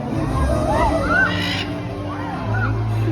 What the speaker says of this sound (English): it does sound like these birds are about ready to take off on their next adventure